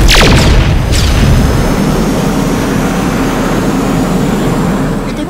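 Weapons fire and explosions in a dramatized battle scene: two sharp blasts in quick succession open into a loud, sustained rumbling roar that stays heavy and fades slightly toward the end.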